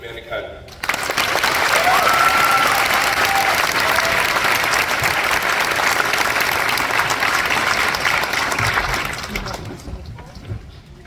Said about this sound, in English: please join me in recognizing and applauding the remarkable accomplishments of our valedictorian